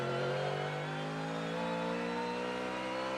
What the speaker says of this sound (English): that is a Ford Coyote engine that is revving away